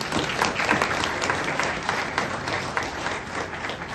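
Sustained applause from a lecture audience in honour of Bhide Guruji, dense, even clapping that fills the room steadily throughout.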